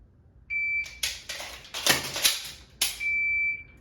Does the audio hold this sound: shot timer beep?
yes